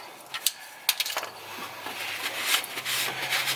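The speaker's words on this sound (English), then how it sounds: "Wipe off any excess oil you have." A shop rag rubs and wipes excess oil off parts during an oil change on a 2008 Chevy Colorado / GMC Canyon, giving soft, close scuffing strokes with a few sharp taps at the start.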